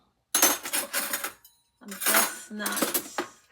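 Metal cutlery clatters and jangles in two bursts of rummaging through a drawer or utensil holder in a kitchen, close and loud, separated by a short pause.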